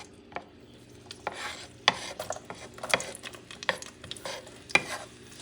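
Chopped onions sautéing in preheated oil in a pan for beef mechado, a soft steady sizzle broken by sharp scraping and stirring clicks from a utensil, fairly quiet and close with no talk.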